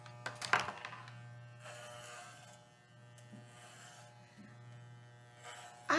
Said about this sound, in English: Cutting the hair off